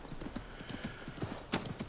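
Horse hooves clip-clop in a steady, close walking rhythm through the Baghdad streets of the Assassin's Creed Mirage video game, with a brief snort near the end.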